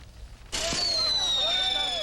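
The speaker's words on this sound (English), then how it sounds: "the firecrackers rocketing off champagne bottles signaled the New Year's Day creation of the euro currency" New Year firecrackers shooting off in Frankfurt, one sudden loud burst followed by a sustained whistling, crackling rush that carries on without fading, loud and close.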